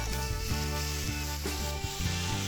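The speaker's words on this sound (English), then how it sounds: "Ooh, beautiful sizzle." Ribeye (entrecôte) steak sizzling in butter in a hot blue-steel skillet, a steady close crackling hiss with no talk.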